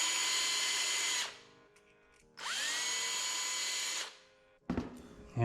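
Power drill cleaning out rivet holes for a custom GoPro camera mount, with two loud close bursts of high whirring a few seconds apart, each spinning down, followed by brief clunks of handling.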